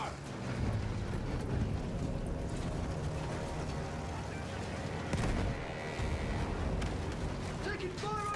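Continuous battlefield din of gunfire and booming artillery in Battlefield 1, a dense, loud wash of shots and rumbling blasts running throughout, with voices shouting beneath it.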